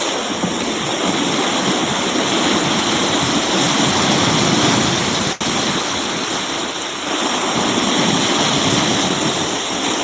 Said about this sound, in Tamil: கடல் அலைகள் வந்து அங்கே